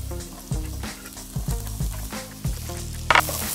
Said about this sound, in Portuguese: Começamos por caramelizar a cebola